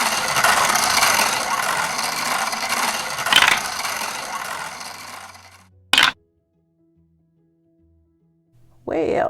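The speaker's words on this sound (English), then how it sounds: "So let's go ahead and spin the wheel." A prize wheel spun for a bingo savings challenge whirs and rattles loudly with rapid ratcheting clicks, slows and stops near six seconds, then a short clatter follows and picks up again at the end.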